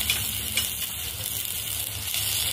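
Takla leaves go into a hot pan with chili paste, giving a steady crackling sizzle with light stirring, close by and with no voices.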